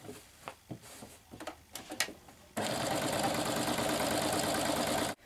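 A sewing machine topstitches the hem of a pocket. Faint handling clicks and taps come first, then a loud, continuous mechanical whir runs for about two and a half seconds before stopping abruptly.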